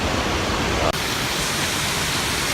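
The Tatsuan waterfall in Laos roars as a dense, constant rush of falling water, loud and close, with one brief dip in the noise partway through.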